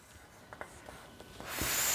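Marker or pen strokes on a board during a primary-school addition lesson, a few short scratchy strokes close by, then louder continuous rubbing toward the end, with no talking.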